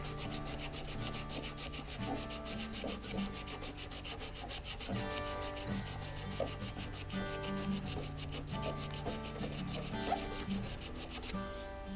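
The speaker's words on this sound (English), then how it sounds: "in between grits, you're going to want to sand it down with the grain" Sandpaper rubs steadily back and forth along a wooden slimline pen blank, sanding with the grain between grits in a close, continuous rasping rhythm.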